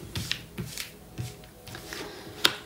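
Tarot cards are shuffled and drawn on a table: soft, sparse flicks and slaps in a loose rhythm, quiet and close, with a sharper snap near the end.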